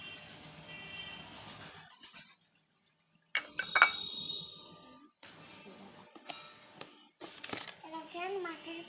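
Small clay plates from a six-piece toy tea set clink and clatter as they are picked up and set down, with sharp close knocks scattered between quieter handling sounds, alongside someone talking.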